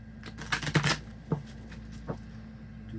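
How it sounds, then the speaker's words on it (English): Oracle cards being shuffled by hand up close, a few quick riffling bursts and soft flicks of card stock, faint and separated by short pauses. "Finding some cards I can shuffle correctly."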